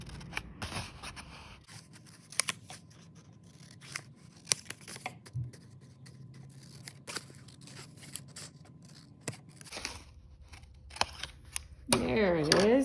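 Scissors snip through paper while cutting out sunflower petals for a Van Gogh Sunflowers craft, giving scattered short, crisp cuts close by, with a louder crinkling burst of paper at the end.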